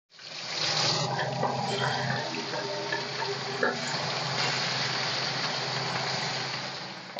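Tangra fish dropped into hot mustard oil, frying with a steady, dense hiss and crackle that holds evenly from start to finish with no voices.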